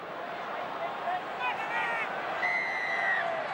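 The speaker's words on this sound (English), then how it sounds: "The crowd aren't happy." A rugby league stadium crowd at a 1992 Newcastle Knights versus Western Suburbs preliminary final gives a broad, distant roar with whistles, under a commentator who keeps talking.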